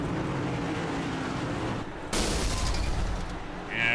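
In an oval racing sim at Chicagoland Speedway, a stock car engine blows with a sudden loud bang and roaring burst that cuts through steady engine drone, followed by continuing race noise.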